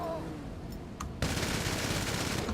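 A Ruiner 2000's mounted machine guns in GTA 5 Online open up abruptly after a short quiet stretch, a loud, rapid sustained burst of gunfire that continues to the end.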